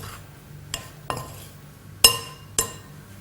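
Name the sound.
stirring seasoned lamb in a pan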